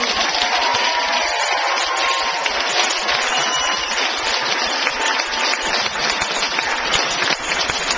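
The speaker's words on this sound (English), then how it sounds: "Tonight, I think they deserve one more round of applause." An audience at a fifth grade graduation ceremony applauds, a dense continuous patter of many hands clapping at a steady, moderately loud level for several seconds.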